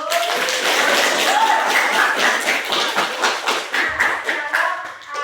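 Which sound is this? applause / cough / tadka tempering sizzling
applause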